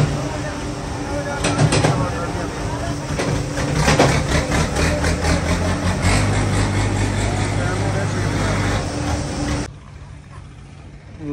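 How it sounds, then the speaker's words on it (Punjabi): A tractor engine hums low and steady at a mushroom farm compost site, mostly under people talking, then cuts out sharply near the end, leaving a quieter background. "ਆਪਣਾ ਟਰੈਕਟਰ ਆ ਗਿਆ ਉੱਥੇ ਲੱਗਣਾ"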